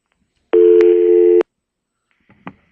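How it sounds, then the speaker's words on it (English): Telephone tones of an incoming call: one sustained electronic tone about a second long, followed by a faint short blip after a pause. "a phone call."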